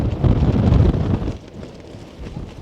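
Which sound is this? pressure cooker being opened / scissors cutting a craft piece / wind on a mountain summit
wind on a mountain summit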